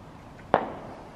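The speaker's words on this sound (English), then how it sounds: "Better fireworks than we have in the year." A single distant firework pop in Manchester with a short rolling echo, heard alone against quiet background noise.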